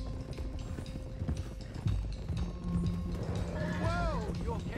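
Horses gallop in Red Dead Redemption 2 with a steady, close clip-clop of hooves, a brief whinny near the end, and someone talking over the hoofbeats.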